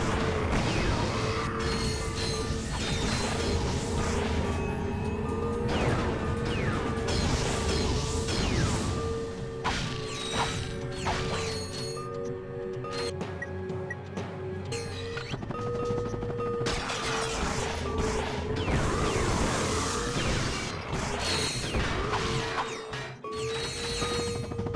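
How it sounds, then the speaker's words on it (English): Glass pieces shattering in the video game Ratchet and Clank 2 on Planet Notak, a dense run of loud crashes and smashes with whooshing and mechanical clatter, going on steadily without talk. "Now you can break all these glass pieces, you get quite a few bolts for doing it"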